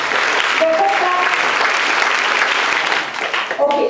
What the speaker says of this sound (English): Can we give some special kind of claps, children? Special claps.